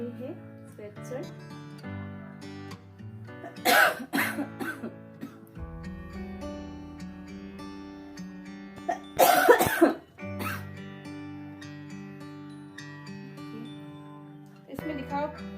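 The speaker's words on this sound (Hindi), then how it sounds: "बहुत गंदा वाला खांसी हो रखा है तो प्लीज़ मेरा खांसी को इग्नोर कीजिएगा।" Two harsh bursts of coughing break through music-like tones, one a few seconds in and another louder fit near the middle, with talk around them.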